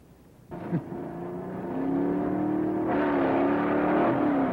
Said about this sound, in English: get ready to ride with me in the Smothers Brothers Racing Team's drag car